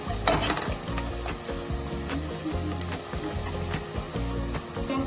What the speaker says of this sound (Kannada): ರುಬ್ಕೊಂಡಿರೋಂತಹ ಮಸಾಲೆನ ಹಾಕಿ ಅದನ್ನು ಕೂಡ ಸ್ವಲ್ಪ ಎಣ್ಣೆ ಬಿಡೋವರೆಗೂ ನಾವು ಫ್ರೈ ಮಾಡಬೇಕು